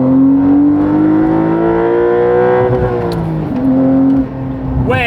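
A Porsche 992 Turbo with a full titanium exhaust and free-flow bypass revs loud and close. A smooth rising engine note climbs, eases off with a falling pitch, then holds a steady idle-like drone.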